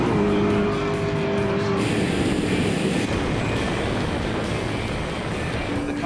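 A race car engine revs hard in race mode with its body lowered for ground effect, a loud continuous roar filling the whole stretch with broadband noise and a rising tone early on, and no voices.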